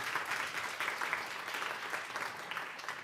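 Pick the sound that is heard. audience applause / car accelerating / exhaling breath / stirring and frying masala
audience applause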